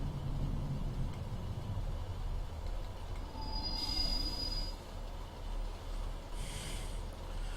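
A train passes through the Onehouse Model Railway route in Train Simulator 2016 with a steady, continuous rumble of wheels on track. A faint high wheel squeal rises midway, with no talking.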